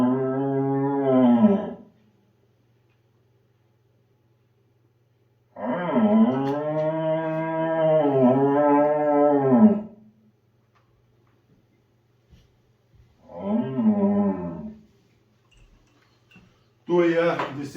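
A human voice imitates the rutting roar of a young red deer stag, made as low, moo-like bellowing calls: three long drawn-out roars separated by pauses, loud and close, with another starting at the end.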